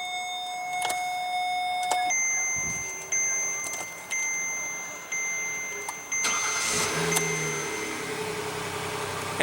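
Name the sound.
2015 Kia Sedona 3.3 liter V6 engine starting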